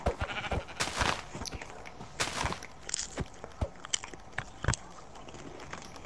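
Sheep bleats from the game Minecraft sound several times amid footsteps and clicky game sounds, fairly faint and close, mixed with short sharp hits.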